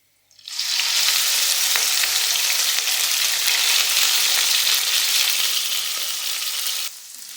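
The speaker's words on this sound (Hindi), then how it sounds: "लहसुन गोल्डन हो जाए तो फिर हम इसमें डाल देंगे बोनलेस चिकन 300 ग्राम है" Boneless chicken cubes hitting hot oil with golden fried garlic in a pan, a sudden loud sizzle that rises sharply and holds as a steady bright hiss, close up with no talking.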